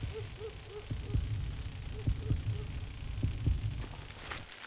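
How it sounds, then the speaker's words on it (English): Low, rhythmic heartbeat cue from the Western shooter Call of Juarez: Gunslinger, steady paired thumps throbbing through a hum during a gunfight duel, with a brief high jingle near the end. "When you hear the heartbeat, you can draw your gun first"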